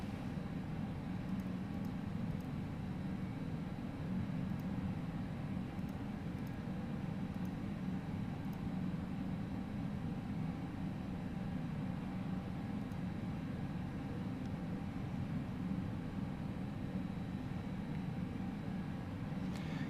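An FSLabs A320 airliner in a flight simulator, with a steady, loud engine and cabin drone that holds constant and continuous throughout, with no talk over it.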